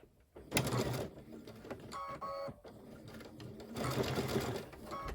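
A sewing machine stitches a zipper pouch seam at a 1/4 inch allowance, running in short rapid bursts with brief pauses and a whirring mechanical buzz, close and clear.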